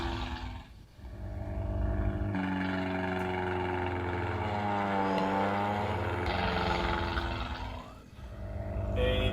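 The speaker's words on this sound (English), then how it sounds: "Why is there this garbage German World War I plane" Engine of a German World War I biplane in the Star Trek: Judgement Rites game, a low droning propeller roar that swells, wavers in pitch and fades back, running alone for several seconds.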